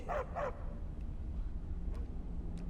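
A companion dog in the video game Skyrim gives two quick barks right at the start, followed by a quiet, low background with only faint ticks.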